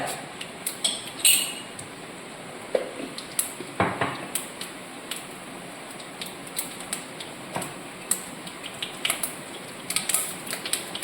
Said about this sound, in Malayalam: ഞാൻ അതിനാദ്യം ചില കടു വറക്കുന്നുണ്ട്